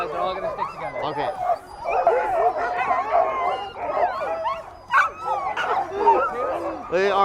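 Excited sled dogs in Skagway, Alaska bark, yip and whimper almost nonstop as a loud, close, overlapping chorus, with people talking and cheering among them.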